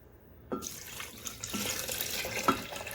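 Milk pours into a jug over ice, starting abruptly as a steady liquid stream with a few clinks from the ice, close and moderately quiet, with no talk.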